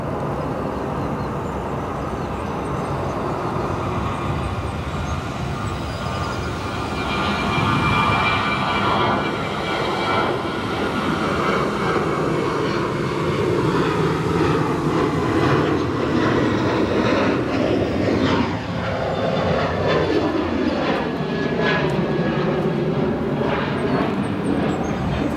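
An airliner lands at O'Hare with thrust reversers deployed, a broad roar swelling then sweeping down in pitch as the aircraft decelerates, heard from a distance.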